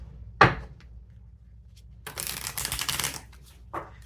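Tarot cards being shuffled: a short sharp snap, then a longer riffling burst of papery flicks, and another quick flick at the end, close and quiet.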